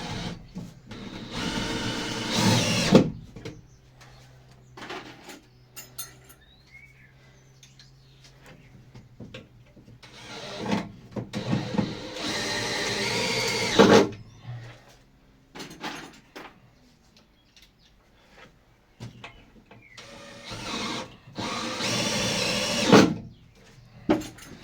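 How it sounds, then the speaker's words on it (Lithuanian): A power drill drives bolts while a thermal floor deck is assembled on a new foundation, with three loud buzzing bursts of several seconds each, separated by quieter clanks and handling noises outdoors. "Ir prisukam varžtus."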